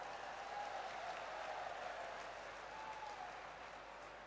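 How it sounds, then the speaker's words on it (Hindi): Large crowd applauding to welcome Prime Minister Narendra Modi at an outdoor public meeting in Sidhi, Madhya Pradesh, a broad distant wash of clapping sustained throughout, with faint voices calling over it. "दोनों हाथ ऊपर करके जोरदार ताली बजाकर उनका स्वागत करें।"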